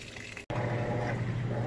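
Water runs into a Maytag HE washer drum holding towels during the wash cycle, a steady, fairly quiet hiss and gush, with a brief break before the flow continues with a low hum.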